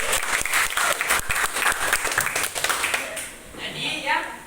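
An audience in a talk about avoiding a virus breaks into loud, dense clapping for about three seconds, then it thins out and fades as voices take over.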